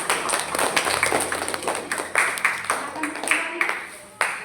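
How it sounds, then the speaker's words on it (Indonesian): Scattered audience clapping in a classroom session for the auditory learning group, a loose burst of claps that rises and tapers, with sharper single claps near the end. "Tepuk tangan."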